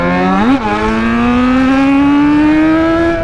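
A Yamaha XJ6 motorcycle engine with a badly slipping clutch revs loudly, a brief blip followed by a steady, slowly climbing high-pitched whine, close and continuous.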